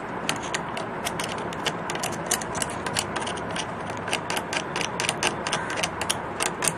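A sewing machine being serviced has a part unscrewed and taken off, giving a close run of quick metallic ratcheting clicks and small mechanical rattles that continue steadily throughout, with no talking.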